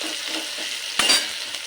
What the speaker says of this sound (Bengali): এবার পেঁয়াজ কুচি একটু লাল করে ভাজতে হবে